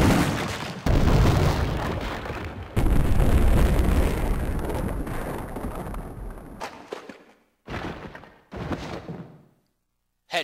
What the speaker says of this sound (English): now to do my little Magnum tradition, testing the Magnum on a zombie